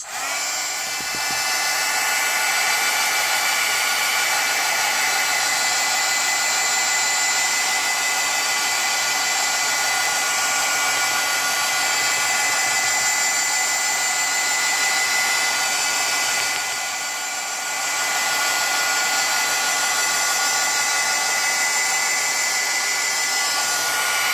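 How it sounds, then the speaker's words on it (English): A heat gun blows over silicone-mixed poured acrylic paint in a swipe pour art session, a loud, steady whirring rush of air that runs almost continuously, dipping briefly once before resuming. "A little bit of the heat gun, mind your ears."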